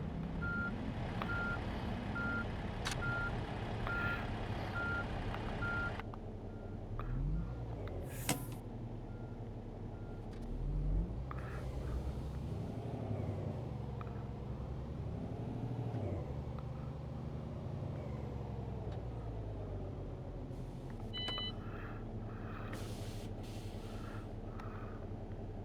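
Heavy truck in a night-time truck simulator game, its engine droning and rising as it pulls away, with reversing beeps at the start and a brief air-brake hiss, steady and close with no talk.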